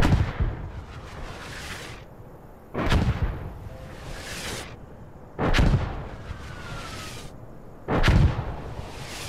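Artillery barrage in Insurgency Sandstorm: three heavy explosions booming at roughly two-and-a-half-second intervals, each a sharp blast with a rolling tail, over steady distant battlefield rumble and no voices.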